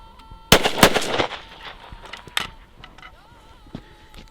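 .410 shotgun fired with a reloaded hull: one loud, sharp blast rings out and fades, followed by a few faint clicks and knocks from handling.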